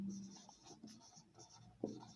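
Faint, brief strokes of a teacher writing on a classroom board during a Hindi-medium English grammar lesson, soft scratchy scrapes in quick succession against a quiet room.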